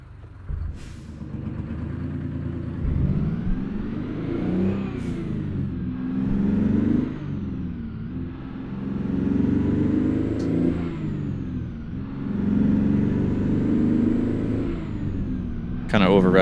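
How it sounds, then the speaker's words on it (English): A GMC General truck engine in American Truck Simulator revs up and down repeatedly in long over-revving surges, loud and close, with a brief hiss of air at the end. "Kind of over revving it just to kind of show off the engine."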